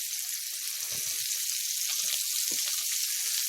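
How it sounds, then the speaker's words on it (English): Small steaks sizzle in a pan over high heat, a steady close hiss with scattered pops and crackles, without any talk. "We're going to take these beautiful little steaks, put them in this pan. I have it on pretty high heat."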